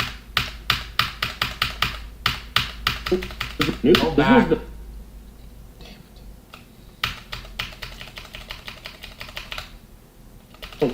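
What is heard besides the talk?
typing on a computer keyboard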